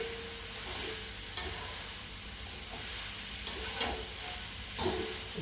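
Cauliflower sizzles quietly in a hot pan with a steady soft hiss, broken by a few sharp clinks of a utensil stirring.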